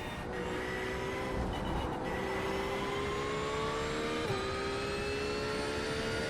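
A Porsche race car engine in iRacing drones steadily at high revs, a smooth tonal whine with a slight pitch shift partway through, constant and close with no talk over it.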